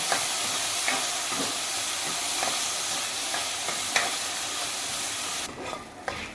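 Onion roasts in a pan, a continuous soft hiss of frying with periodic light scraping stirs, tapering quieter near the end with a final clack.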